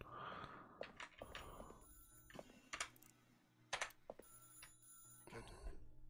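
A telephone rings in the video game Beholder 3, several short bell-like trills at moderate level among clicks and brief game sounds.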